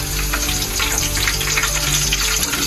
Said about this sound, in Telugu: ఇక చికెన్ వేసి తిప్పేయడమే